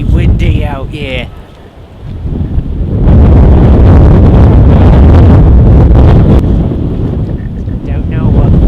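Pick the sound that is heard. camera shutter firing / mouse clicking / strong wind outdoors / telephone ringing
strong wind outdoors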